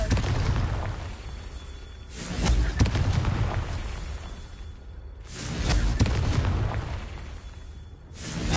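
Confringo spell blasts in a Harry Potter video game, three booming explosions spaced a few seconds apart, each a loud burst fading into rumbling debris.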